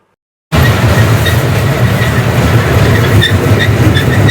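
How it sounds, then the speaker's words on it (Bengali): A train starting off and running, loud and close, with steady rumbling wheel noise and a faint rhythmic clatter that begins abruptly after a short silence. "আমাদের ট্রেনটা চালু হয়ে গেছে"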